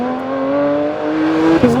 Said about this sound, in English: like in the GT3, this is an astonishing engine